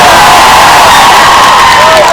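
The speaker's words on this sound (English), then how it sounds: "Can we give them a round of applause?" Outdoor crowd at a Palestine solidarity rally at Manchester Piccadilly, cheering and whooping loudly and continuously, a dense roar of many voices that fills the whole stretch.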